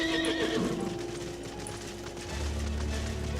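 A horse whinnies in the video game Final Fantasy XIV, a clear, close neigh with a few hoof clops, followed by a low rumbling drone.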